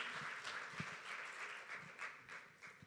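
Audience applause at a campaign launch event, a steady wash of clapping from a crowd with a few sharper claps standing out, moderately faint and continuous.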